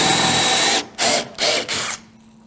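A Forstner bit, slightly oversized, bores a hole for a magnet in a shotski board, running steadily at first, then cutting in three short bursts with brief pauses between, close and fairly loud.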